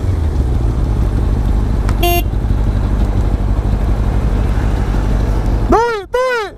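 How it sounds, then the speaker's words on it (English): A truck horn blasting by a road, a short tone midway over rumbling traffic and then two loud, bending blasts near the end, with people talking throughout. "We're going to try to make trucks blow their horns if we see trucks."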